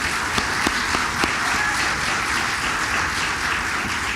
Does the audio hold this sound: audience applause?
yes